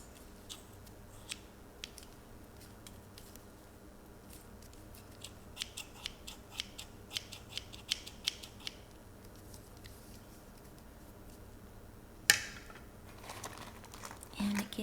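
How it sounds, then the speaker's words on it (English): Sewing-kit scissors snip and click in a series of light, irregular cuts, with soft crinkling handling noise and a sharper clack near the end. "So first we have scissors."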